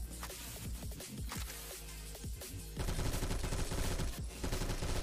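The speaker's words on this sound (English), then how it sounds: "Literally, chat, just shoot this wall." Light machine gun fire at a wall in the Phantom Forces video game, rapid sustained bursts of sharp shots that grow louder and denser partway through, continuing to the end.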